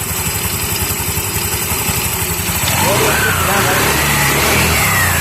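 TVS Jupiter scooter engine, just after a clutch overhaul, revs under acceleration with a loud, steady mid-pitched drone that swells and holds, with a pulsing idle-like rhythm early on.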